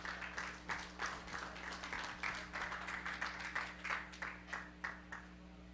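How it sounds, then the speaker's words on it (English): Audience at an education summit clapping in a hall, a fairly faint, steady patter of applause with a low electrical hum underneath. "A round of applause, please, for Attorney Carlos C. Villanueva, Jr."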